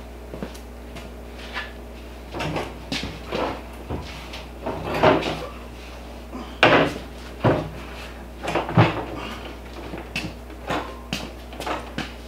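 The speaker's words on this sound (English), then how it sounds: "So I'm going to grab this drawer and get it in here, and let's see how it's going to fit." A wooden drawer is pushed and knocked into a camper trailer cabinet, giving a string of irregular wooden thumps, scrapes and sliding bumps, close and fairly loud, with no talking.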